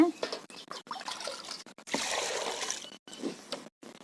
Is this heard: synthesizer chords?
no